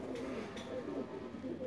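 Close pigeon coos repeat softly over steady background noise with no talking, in the setting of a pigeon keeper's loft.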